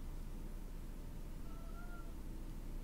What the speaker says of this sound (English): You have a cat named Harvey.